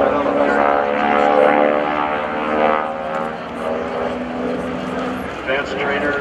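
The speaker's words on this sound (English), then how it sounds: "SNJ Harbor section. One of the most important aircraft I've ever seen." North American SNJ advanced trainer, a propeller-driven World War II aircraft, droning steadily overhead at an airshow, a continuous loud engine hum with someone talking over it throughout.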